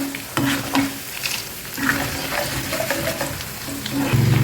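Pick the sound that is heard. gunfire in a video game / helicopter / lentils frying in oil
lentils frying in oil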